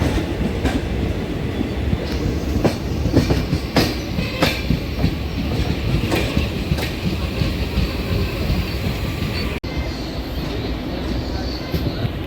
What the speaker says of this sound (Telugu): పొద్దున్నే ప్యారలల్ రన్నింగ్లో మళ్ళీ రెండో ట్రైన్ ఓవర్టేక్ వేస్తుంది.